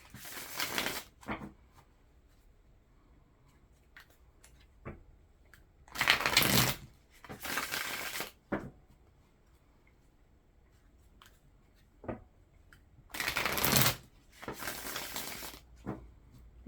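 Tarot cards being riffle-shuffled in several quick bursts, with soft taps and handling noises between them, close and fairly quiet.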